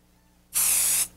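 Spray adhesive hisses from an aerosol can onto minkee quilt layers in one steady, close burst of about half a second, alone after a quiet pause.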